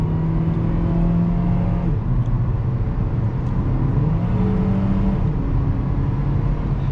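A 2008 Honda Civic LX accelerating hard from a stop, heard from inside the car as a loud, steady engine drone that climbs in pitch through each gear with brief dips at the shifts, and no talking.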